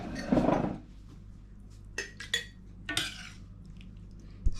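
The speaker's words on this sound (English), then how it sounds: "so we'll spoon that into the jar now" Cucumber relish is spooned into a glass jar at home, with a few sharp clinks and scrapes of a spoon against glass scattered across a quiet background.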